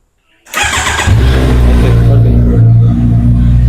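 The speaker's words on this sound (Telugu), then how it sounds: "సో మా మమ్మీ అయితే ఇప్పుడు కోల్డ్ స్టార్ట్ చేస్తుంది బైక్ని." A 2025 Kawasaki Z900 motorcycle cold-starts close by: after a moment of quiet the starter whirs, the engine catches with a loud burst, then settles into a steady, throbbing idle.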